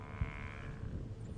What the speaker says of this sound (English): You can hear them in the background, the bellowing.